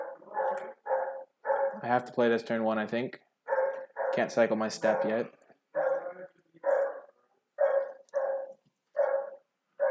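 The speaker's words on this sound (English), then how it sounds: "Sorry about that, that's my dog." A pet dog barks in repeated sharp bursts, several clustered close together, then spaced more evenly, loud and near, mixed with someone talking through much of it.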